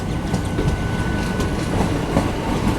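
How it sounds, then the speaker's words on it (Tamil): Chennai–Thiruvananthapuram superfast express train rolling past, a steady low rumble of wagons with faint rhythmic wheel clatter throughout, fairly close and continuous with no voices. "2695 சென்னை திருவனந்தபுரம் சூப்பர் ஃபாஸ்ட் வெளியே வருதுங்க"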